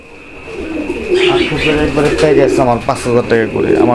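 Pigeons cooing at a pigeon farm, soft repeated coos close by, heard beneath steady conversation between people.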